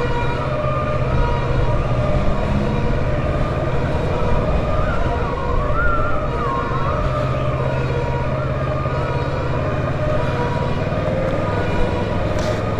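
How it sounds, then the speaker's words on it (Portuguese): Fire engine siren wailing on the road amid steady motorcycle and traffic noise, its rising and falling tone moderately distant and partly masked by the engine rumble. "um carro de emergência precisa de passagem e você não percebe"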